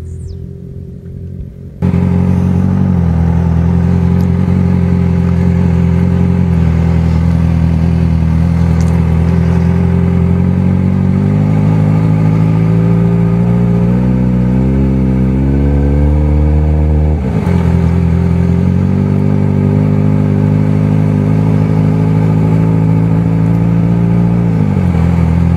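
A Yamaha XJ6 motorcycle starts up with a sudden loud burst, then its engine rumbles close by and climbs steadily in pitch as it is revved and ridden, dips briefly and rises again without any voices.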